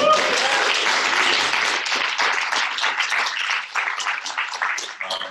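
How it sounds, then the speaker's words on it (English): Brisk applause from a crowd at a company offsite in Istanbul, dense at first and then thinning into scattered claps toward the end. "let's give ourselves a round of applause."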